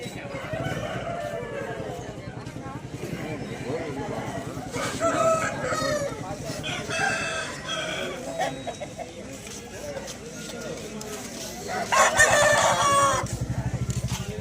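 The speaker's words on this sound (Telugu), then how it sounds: "కోడి అయితే చాలా బాగుంది" Native roosters crow repeatedly at a crowded rooster market in Vijayawada, with people chattering and calling throughout; one crow rings out loud and close near the end.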